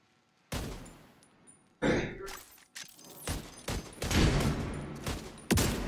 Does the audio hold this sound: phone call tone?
no